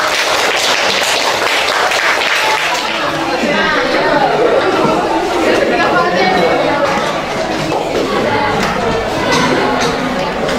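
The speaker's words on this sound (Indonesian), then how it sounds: "Kita tepuk tangan untuk kelompok satu." A classroom crowd claps for the first student group during a teacher's lesson, steady broadband applause mixed with lively chatter throughout, loud and close.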